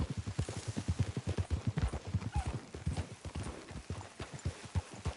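Horse hooves clip-clop in a steady, rapid rhythm on a road in the video game Red Dead Redemption 2, fairly close and continuous with no talk over them.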